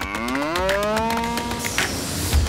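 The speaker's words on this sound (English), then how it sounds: "Angus cattle. There it is. I got a man crush on that bull." An Angus bull moos in one long, loud, drawn-out call close by, its pitch sliding upward, with faint farm background noise and no talk.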